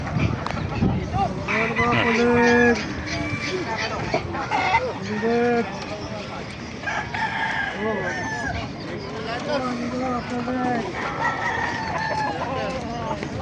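Many chickens cluck and crow together at a busy poultry market in Bocaue, Bulacan, with roosters calling over a constant din and people talking in the background.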